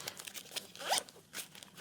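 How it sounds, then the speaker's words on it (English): A zipper on a textile motorcycle jacket vent is pulled in short, close, raspy bursts, with one stronger zip in the middle. "Zip it down so you have it held on firmly. Zip it open."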